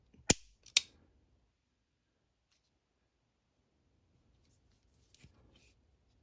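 A Smith & Wesson Model 19-3 revolver with a 2.5-inch barrel is cocked single-action, producing two sharp, close metallic clicks in quick succession, then silence, and later one more faint click.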